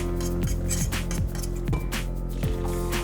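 Seasoning being stirred into a pot of thick udon noodles in broth, with repeated clinks and scrapes of a utensil against the pot over a steady background hum.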